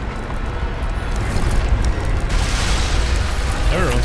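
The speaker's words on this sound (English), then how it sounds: "Everyone's shooting everyone." Gunfire and booming blasts in the video game Nobody Wants To Die, a dense, loud barrage of shots and explosions rumbling continuously, with a voice faintly under the din.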